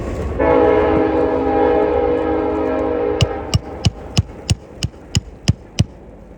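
A loud train passes close by, sounding a long sustained horn blast before the wheels settle into a run of sharp, evenly spaced clacks over the rail joints.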